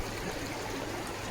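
A Konkan village river, the Talavade Kherwadi, swollen after rain, flows in a constant full rushing murmur with a low gurgle, steady and moderately loud with no voices.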